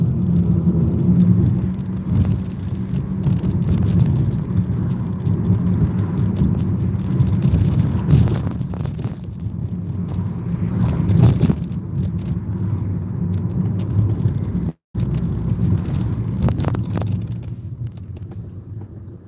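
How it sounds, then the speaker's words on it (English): Rumbling road noise from inside a moving car, with repeated thumps and jolts as it rolls over rough, broken pavement. "these potholes right here are brutal"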